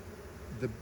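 Honey bees in an opened hive give a low, steady buzz that swells briefly near the end as a bee passes close, faint and continuous with no talking.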